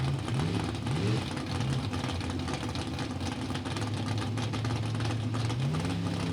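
Drag racing cars, including a 1959 Chevrolet, rumble and rev at the start line, with a steady low engine burble and repeated rising-and-falling throttle blips, close and continuous.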